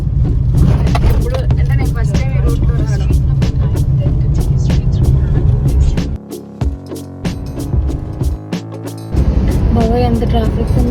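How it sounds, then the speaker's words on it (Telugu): Road traffic rumbles past on a busy street near a shop, with car engines droning loudly and continuously, briefly thinning in the middle before the steady roar of vehicles returns. "ఎంత ట్రాఫిక్ ఉందో."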